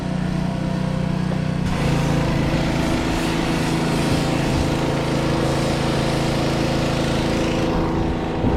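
A John Deere 720 diesel tractor engine runs with a steady low throb, loud and close, with a rough rumbling texture that stays constant throughout.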